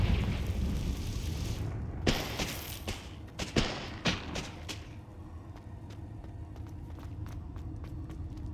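Confringo blasting spell in Hogwarts Legacy, a run of sharp, close explosive cracks and booms in quick succession, followed by quieter scattered impacts and rumbling ambience.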